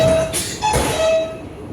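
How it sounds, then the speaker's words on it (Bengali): A Guangzhou Metro train stands at the first station of its line as doors close, with a steady rumbling hum and several high electronic chime tones sounding briefly over it. "এখন আশা করি চলতে শুরু করবো মেট্রো"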